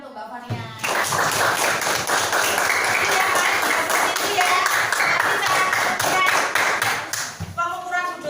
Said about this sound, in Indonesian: Tepuk tangan untuk Mbak Fania.